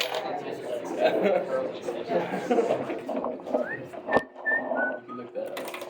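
A few short whistled notes, rising and gliding, ring out over a murmur of background chatter and voices near the end.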